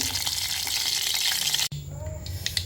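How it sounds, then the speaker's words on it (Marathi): Loud, dense sizzling of mustard seeds hitting hot oil for a sambar tempering, crackling steadily, then an abrupt break followed by quieter spitting and popping. "मी आता मस्त पहिल्यांदा चरचरीत फोडणी करते"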